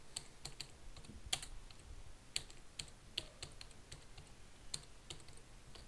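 Quick taps on a computer keyboard as short text is typed, a loose run of sharp, light clicks with uneven spacing and small pauses, close and quiet, with no talking.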